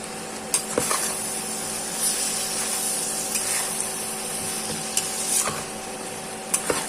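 Cabbage and potato curry being stirred in a pan, with a steady soft sizzle and irregular scraping strokes of a spatula, plus a few sharper clicks against the metal.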